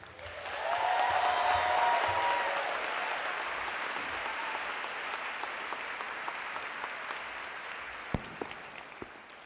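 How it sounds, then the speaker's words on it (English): Graduates at a spring convocation ceremony cheer and applaud. The applause rises quickly into a loud, sustained wash with a few whoops, then slowly thins out while scattered claps continue. "guys, give yourselves a big cheer"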